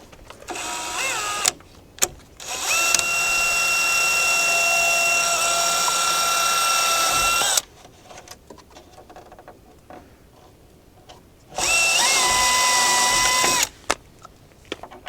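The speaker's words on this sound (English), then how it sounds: "Let's drill us a hole right here." A power drill whines loudly in two bursts, first a short spin then a long steady run, with a quiet pause before another burst near the end, drilling a mounting hole on a 2025 Ford F-350 for light pods.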